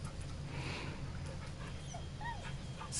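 Dog in the video game Baldur's Gate 3 gives faint, short whimpers and yips over a low, steady game ambience, with no talking.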